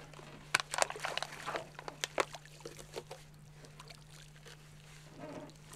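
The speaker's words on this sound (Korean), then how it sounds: "며칠 전에 설치해둔 그물을 건져 올린다." A fisherman hauling a net from a high-altitude lake in the Pamir mountains makes faint wet splashes, drips and knocks against a boat, irregular at first, then quieter toward the end, over a low steady hum.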